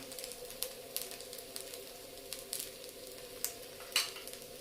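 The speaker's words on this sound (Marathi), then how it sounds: "आता आपण याच्यामध्ये साईटने थोडं थोडं तेल टाकूया" Fasting thalipeeth fries on a pan as oil is added around the edges, a close crackling sizzle with scattered sharp pops and spatters, no voices.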